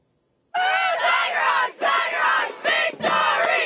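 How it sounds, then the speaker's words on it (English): A crowd roars at a high school football game in West Union, a sudden loud swell of voices after silence that rises and dips in waves, close and energetic. "The crowds were fired up in West Union"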